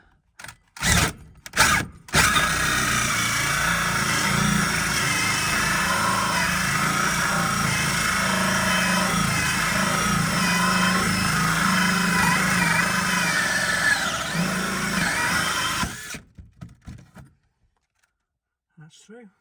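Power drill boring through a garage or workshop wall, a loud steady whining grind running for about fourteen seconds between a few short bursts at the start and end.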